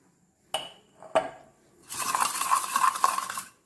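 Salt stirred into liquid in a pot for a Kerala turkey berry (chundakka) vattal curry: two sharp knocks, then a steady run of scraping and clinking of a spoon against the vessel, close and fairly loud, with no talk.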